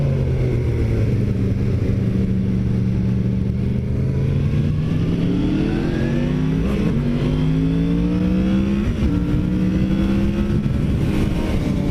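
A 2017 Yamaha FZ-10 motorcycle on the road, its engine droning loudly and rising in pitch through several gear changes with steady wind rush, heard close from the rider's position.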